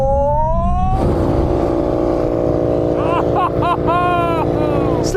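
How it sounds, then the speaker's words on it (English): A Porsche 911 Turbo S braking hard from 100 mph in a straight-line test against KTM and MotoGP motorcycles, a loud close engine and road drone with a shifting pitch as the car slows, with a voice over it. "Full emergency stop now."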